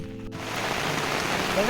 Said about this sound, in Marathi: रस्त्याने जाता जाता ना पावसाने परत एकदा जोरदार हजेरी मारली